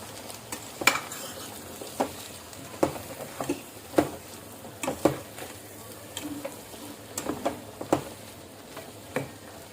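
A spoon stirs drumstick milk curry in a pan, close by, with repeated metallic clinks and scrapes against the pan over a soft background sizzle.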